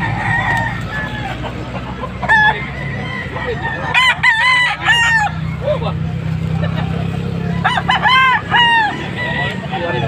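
Young stag gamecocks crow repeatedly at close range, with several loud cock-a-doodle-doo calls over a noisy backdrop of clucking fowl and background chatter.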